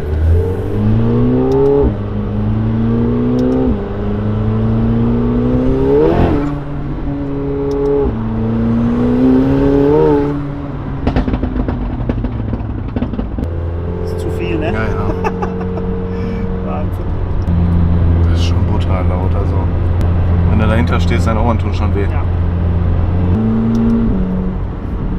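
A McLaren 720S with a Stage 2 tune accelerates hard out of third gear. The engine note climbs in repeated surges, broken by sharp gearshifts, loud and close, while people talk inside the car.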